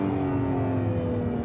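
An Acura NSX Type S engine runs smooth and steady, a close even hum with a slight rising revving tone and no talk over it.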